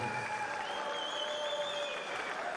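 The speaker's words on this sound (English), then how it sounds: "could we please have a big round of applause for both of our boxers" Boxing crowd applauding both fighters after a four-round bout, steady dense clapping at moderate distance with a faint murmur of the arena audience beneath.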